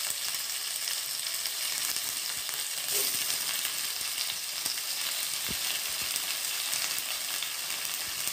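Ambadi flower husks roast in a hot pan on a low flame with a constant, even sizzle and crackle. A couple of soft taps sound against the pan along the way.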